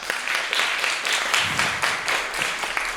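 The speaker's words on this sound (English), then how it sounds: "as always, we applaud the poet" Audience at a high school poetry slam in an arts center clapping for a poet, dense steady applause throughout, fairly close.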